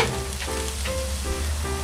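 Onions and carrots stir-fry in a pan over medium heat, giving a steady, close sizzle with faint stirring and no voices.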